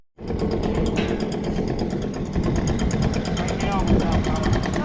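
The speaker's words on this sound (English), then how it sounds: "My tractor." A tractor engine starts and then idles steadily close by with a rapid, even mechanical chugging that runs unbroken to the end, while people talk over it.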